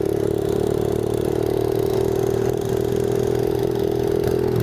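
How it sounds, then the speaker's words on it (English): A go-kart engine drones steadily and loudly while the kart drives over bumpy ground, with faint rattling over the constant hum and no talking. "I'm watching the back of Charlie's go-kart"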